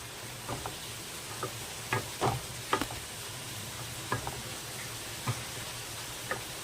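Sambar dal being stirred into a frying mixture in a pan, with faint scattered scrapes and taps over a low, steady background hiss, no voices.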